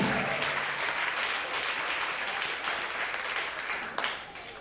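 A church congregation claps its hands in a steady, dense wave of applause filling the room for several seconds, with a brief sharper swell near the end.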